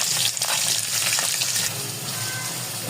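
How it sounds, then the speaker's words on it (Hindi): Finely chopped onion, one large bulb, frying in a pan for daal mash, a loud close sizzle that eases slightly after a couple of seconds, with faint stirring scrapes. "यहाँ पे हम डाल देंगे प्याज"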